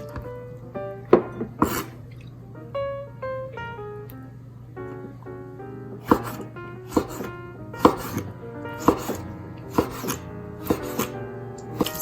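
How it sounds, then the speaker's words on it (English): A knife slices oil-packed peppers into strips on a cutting board, with steady, fairly evenly spaced chopping strokes that grow more distinct in the second half, all beneath continuous background music. "So I'm just going to slice them the same way as everything else, just in strips."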